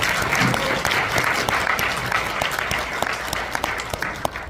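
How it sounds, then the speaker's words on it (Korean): An outdoor rally crowd applauds in a dense burst of clapping that gradually thins to scattered individual claps, with some faint voices underneath. "동의하시면 박수 한번."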